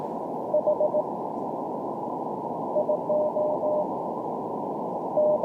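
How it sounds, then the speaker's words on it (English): Faint Morse code tones from a low-power amateur radio station beep in short bursts through a steady hiss of radio static, the signal fading in and out. "You hear all that fading?"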